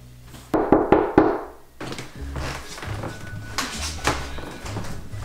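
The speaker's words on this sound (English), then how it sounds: "I think I hear a knock on the door." Several sharp knocks on a door sound close and loud in a quick cluster of three or four, followed by softer thumps and shuffling noises with a low background hum.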